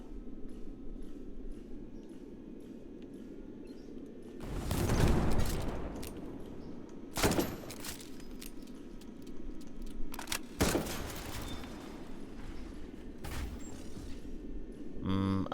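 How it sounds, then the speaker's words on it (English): Small video game explosions go off as a few sharp bursts, one longer blast followed by three or four shorter pops spaced a couple of seconds apart, over a steady low background hum. "Tiny little explosions. Explosions for babies."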